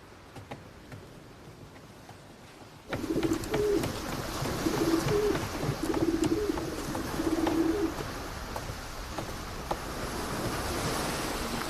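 A carrier pigeon coos aboard a ship at sea: a series of low, soft coos in short bursts over steady wind and wave noise, beginning after a quieter opening stretch.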